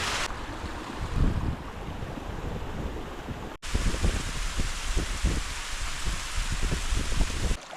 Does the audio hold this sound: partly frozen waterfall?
yes